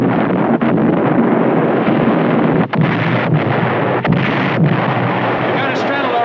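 Naval gunfire from ship's guns in a 1953 war film, heard as loud, continuous rumbling bombardment with several sharper booming blasts standing out against a dense, noisy battle soundscape.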